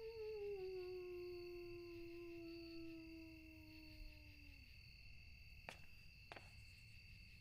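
Crickets in the indie horror game Bite Nite chirp as a steady, thin, high drone at low volume, while a long descending howl fades out early on and a couple of faint clicks land near the end.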